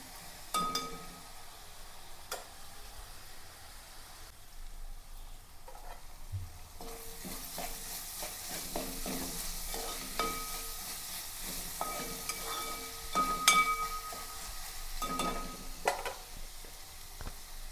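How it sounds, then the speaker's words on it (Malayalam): Green chili, ginger and garlic sauté in a hot pan, a soft continuous sizzle broken by scraping stirs and occasional light clinks of the utensil against the metal, close by with no voices. "പച്ചമുളകും ഇഞ്ചിയും വെളുത്തുള്ളിയും എല്ലാം കൂടി ഒന്ന് വാട്ടണയാണ്."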